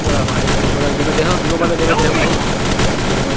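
Sniper gunfire in a battle royale mobile game during a duo rank push, heard as dense, loud continuous shooting and blasts filling the whole stretch, with voices mixed in.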